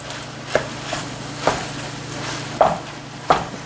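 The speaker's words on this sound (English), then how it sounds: "Get these stirred around just for a second" Bush's black beans stirred in a pot that is a little too small, with a spoon scraping and clinking against the sides in four or five distinct strokes over a faint steady background hum.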